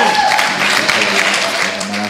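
A church congregation claps, a brief burst of many hands with crowd noise and voices mixed in, loud and close throughout.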